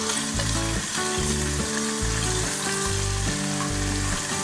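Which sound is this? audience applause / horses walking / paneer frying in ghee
paneer frying in ghee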